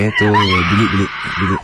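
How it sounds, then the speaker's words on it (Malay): A radio-studio sound effect of a woman screaming plays as a loud, drawn-out, wavering shriek with a sobbing, laugh-like quality, and a few spoken words overlap it. "Ini bunyi wanita pekik"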